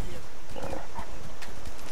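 Horse hooves clip-clop in the video game Skyrim, a steady run of hoofbeats under continuous talk from a player, with a brief whinny-like tone partway through.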